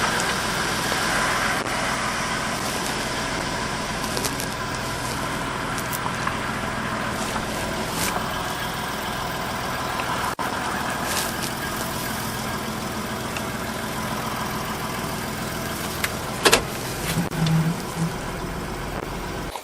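A 2019 Ford F-150 with a Pro Comp 4-inch lift kit idles steadily while backing up in a parking lot, a continuous mid-low engine rumble with a few brief clicks and a small thump near the end.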